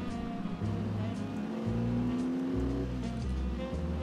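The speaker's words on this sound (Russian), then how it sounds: "Вот эта машина мне нравится." A fast car driven in the video game The Saboteur, its engine revving up and shifting through gears in repeated rising pulls, loud and close, with a voice talking over it.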